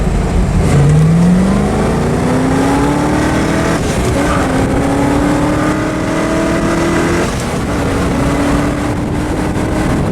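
A 1966 Corvette C2 convertible with a 327 cubic-inch 300 hp V8 and four-speed runs loud and close, its engine note climbing steadily through the gears with brief dips between shifts.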